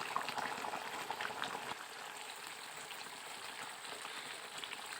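Chicken chaap gravy simmers in a pan with a steady bubbling, spattering hiss, close and continuous throughout, with no voices.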